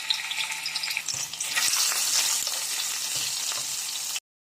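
Sliced ginger dropped into hot cooking oil in a pan, a loud continuous sizzle and crackle with occasional stirring knocks, cutting off abruptly near the end.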